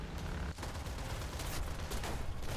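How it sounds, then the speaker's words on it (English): Aircraft guns firing in War Thunder air combat: a dense, continuous roar of rapid gunfire lasting the whole moment, loud and unbroken apart from a brief dip early on. "Send a couple bullets his way."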